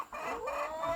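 Laying hens inside a semi-intensive coop near their feeders give a brief run of clucking calls close by, with no talk.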